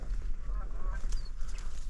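Canada geese honk while flying low over a North Dakota duck hunting spread, several calls rising over steady wind and field noise, fairly close, with no speech.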